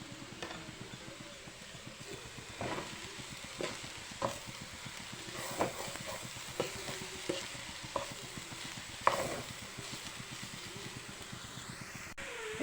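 Jackfruit thoran being stirred in a pan, with a soft steady sizzle and regular light scraping taps from a spoon, fairly quiet and close.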